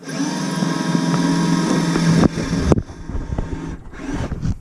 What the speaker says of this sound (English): What if this is like a steel thing I'm drilling into?